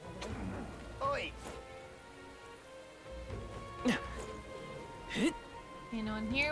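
Steady rain falling in the Metaphor ReFantazio video game, a soft continuous patter under background music, with brief voice-like game sounds rising over it a few times.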